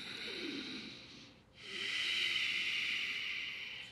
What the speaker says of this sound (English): Listen for Ujjayi sound.